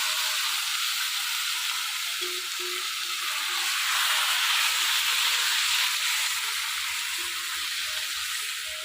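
Hilsa fish fry in hot oil tempered with black cumin in a village kitchen, giving a loud, steady, close-up hiss and sizzle that runs unbroken throughout, with faint clinks and bubbling underneath.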